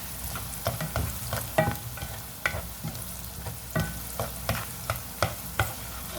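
Onions frying to light brown in a pan, a soft steady sizzle broken by a regular series of spoon scrapes and taps as they are stirred, close and moderately quiet.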